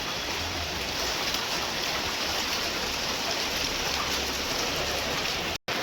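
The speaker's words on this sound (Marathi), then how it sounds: "पाऊस बघा किती आहे मागे" Heavy monsoon rain pours steadily in Vasai-Virar, India, a dense, even hiss with no pauses, with a brief dropout near the end.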